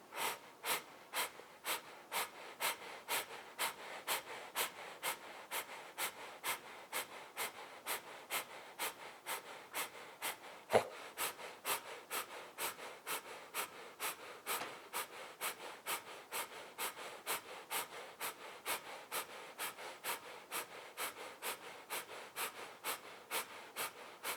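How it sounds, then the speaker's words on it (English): Sharp, rhythmic nasal breaths during a yoga breathing exercise, dozens of quick forceful puffs in an even, rapid pulse, close and alone, with no talking. "deep breath in through the nose. Exhaling, begin."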